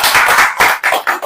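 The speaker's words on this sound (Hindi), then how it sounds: "और ताली नहीं आएंगे?" A church audience claps at a sermon, loud close handclaps that come in uneven bursts and briefly die away between surges.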